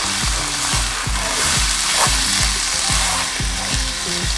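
Egg fried rice with vegetables and soy sauce sizzles hard in a hot pan, while a spatula knocks and scrapes in a quick, regular rhythm of roughly two strokes a second throughout.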